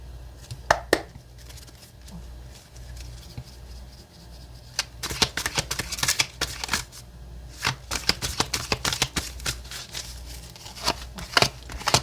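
Tarot cards being shuffled and drawn for a reading, heard as bursts of crisp riffling and papery slaps in irregular clusters, close and fairly quiet, with no talking.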